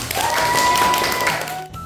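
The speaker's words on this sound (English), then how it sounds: "Give yourself a clap." Brief clapping, likely a canned applause effect, in an English grammar lesson for children, mixed with bright sustained tones that fade out after about a second and a half.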